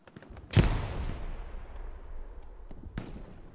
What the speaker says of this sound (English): Grenades coming off.